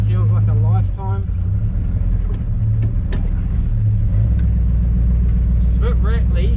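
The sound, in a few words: 1946 Chevy pickup with 350 small block driving, rattly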